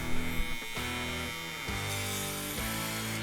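A steady Aberlite Touch 2 electric head shaver buzz cutting hair, with slight dips and shifts in pitch as it moves, close and continuous, with no voices.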